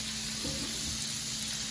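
Half a stick of salted butter sizzling in a pan for a lemon butter sauce alongside scallops: a steady, bright hiss of frying, fairly loud and continuous throughout.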